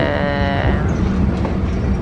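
A Korean subway train runs along the track with a loud, steady rumble and a fading high whine at the start, close and continuous for the whole stretch.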